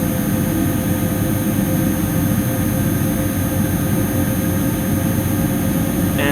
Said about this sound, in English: there's a plane flying over my neighbourhood part of the city.